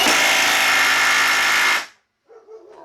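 A Milwaukee M12 Stubby impact wrench tightens with a loud, continuous, rattling drone for nearly two seconds, then stops abruptly. Faint background noises follow afterward.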